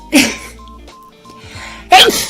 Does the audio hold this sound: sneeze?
yes